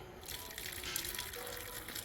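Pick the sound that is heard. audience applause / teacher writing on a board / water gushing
water gushing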